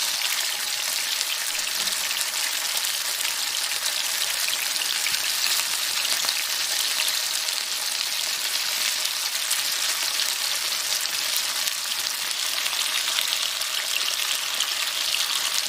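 Homemade pierogi browning in a pan give off a steady, even sizzle, a dense crackling hiss that holds unbroken from start to finish with no voices.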